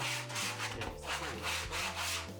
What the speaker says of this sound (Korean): 이런 부분을 사포를 이용해서 갈아주신다면 사용하시기에 더 좋습니다.